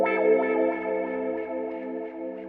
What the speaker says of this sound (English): let's grab the guitar and, like I said, add some wah pedal action